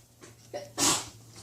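A single sharp sneeze bursts out near the end after a couple of short breathy intakes, close and fairly quiet in an indoor room.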